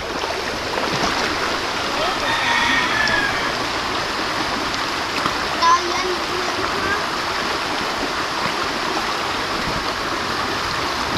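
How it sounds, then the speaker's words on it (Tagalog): River water rushes and splashes continuously nearby, a broad steady wash with brief louder splashes. "Dito na kami sa ilog."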